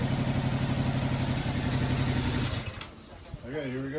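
A 2022 Yamaha R7 motorcycle on its stock exhaust runs close and loud for about two and a half seconds before cutting off, followed by a quieter stretch.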